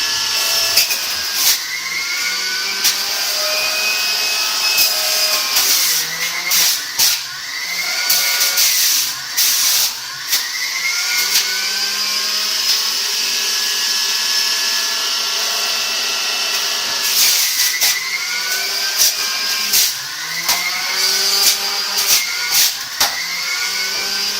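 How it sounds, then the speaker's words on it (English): A high-powered 600-watt juicer grinds ginger and carrots with a loud, continuous motor whine, its pitch dipping and bouncing as pieces are pushed through, close and uninterrupted by talk. "It's a very high-powered juicer. It's like 600 watts, I think."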